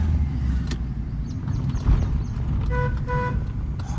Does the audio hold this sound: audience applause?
no